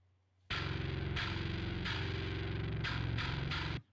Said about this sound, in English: and it sounds like this